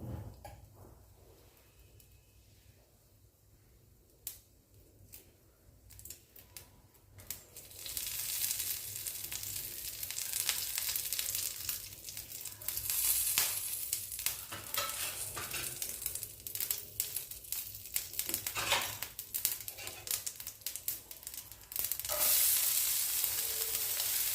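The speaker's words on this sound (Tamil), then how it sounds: "இப்போது எண்ணெய் காஞ்சோன்னு கடுகு சேர்த்துக்கலாம் சீரகம் சேர்த்துக்கலாம்" Mustard seeds and cumin hit hot oil after a quiet start. A loud, crackling sizzle with popping seeds then runs steadily, with occasional knocks and scrapes from the pan.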